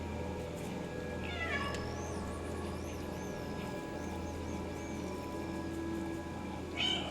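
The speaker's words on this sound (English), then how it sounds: "So there, I can meow." A cat meows in a video game, a few short mewing calls standing out over a steady game backdrop of ambient music and tones, with no talking.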